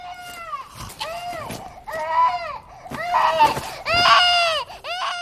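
An abandoned newborn baby in an anime cries in loud, wavering wails with short gasps between them, close and unaccompanied by speech.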